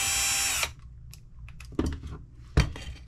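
A power drill spins out screws from a Losi Mini B RC car chassis: one loud whirring burst at the start, then small clicks and clatter of parts being handled.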